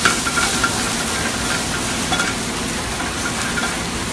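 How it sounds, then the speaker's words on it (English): Shrimp sizzle loudly in a hot restaurant pan with onions and peppers, a dense steady frying hiss with faint crackles, close and continuous without talk. "You see how you get a nice sizzle?"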